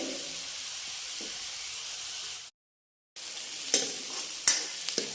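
Makoh vegetable dish stirred in a hot pan with a steady sizzling hiss and soft scraping, briefly cut to silence midway, then resuming with a few sharper clinks of the spoon against the pan.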